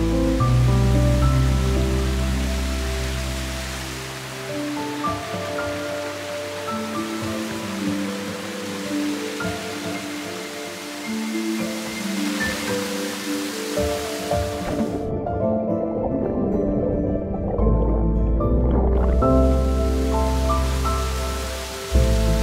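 A river rushes near a waterfall on a mountain backpacking trip, a steady broadband roar of flowing water that fills the whole clip with no talking.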